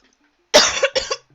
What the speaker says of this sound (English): Why is everybody coughing so much?